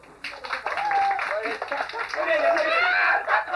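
Guests at a 2003 wedding break into sustained clapping and applause. Lively crowd chatter and a voice run underneath.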